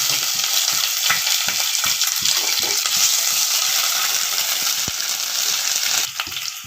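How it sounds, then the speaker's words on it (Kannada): Ginger, garlic, onion, green chillies and curry leaves frying in a little oil for tomato rice bath, a steady close sizzle with scraping stir strokes throughout. "ಶುಂಠಿ ಬೆಳ್ಳುಳ್ಳಿ ಈಗ ಈರುಳ್ಳಿ ಎರಡು ಮೆಣಸಿನ್ಕಾಯಿ ಒಂದು ಸ್ಪೂನ್ ಕರ್ಬೇವಿನ ಸೊಪ್ಪು ಸ್ವಲ್ಪ ಎಣ್ಣೆಯಲ್ಲಿ ಅದನ್ನು ಬಾಡಿಸ್ಕೋಬೇಕು"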